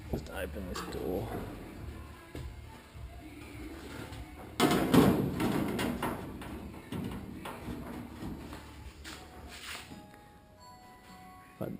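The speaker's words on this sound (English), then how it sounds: "Just open this door." A car door on a Holden HG Monaro is opened close by, giving a brief clunk and rattle that stands out amid background noise and some talk in a garage setting.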